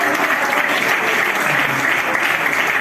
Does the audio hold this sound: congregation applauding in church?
yes